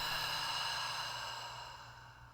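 A person exhales slowly and deeply during a guided breathing exercise, one long soft breath that gradually fades, close and quiet with no talk.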